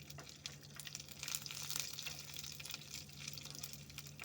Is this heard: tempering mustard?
yes